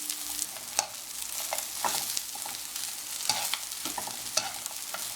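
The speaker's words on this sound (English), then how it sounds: "You need to fry the chicken until they're brown in color." Chicken pieces fry in a pan with just a little oil, sizzling steadily while a utensil stirs and scrapes them in irregular clinks, close and alone.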